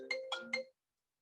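A mobile phone ringtone plays three quick bright melodic tones close by, then stops abruptly into silence.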